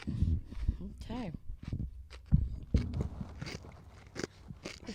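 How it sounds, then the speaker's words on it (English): Someone bites into and chews a raw egg with its shell, giving sharp, close crunches and crackles mixed with people talking and reacting in a casual indoor setting. "I am starting off with a raw egg, shell and all"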